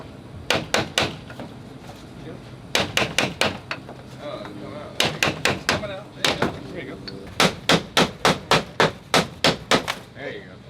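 Quick bursts of hammer taps ring out in rapid groups of several strikes each, close and sharp, with people talking underneath.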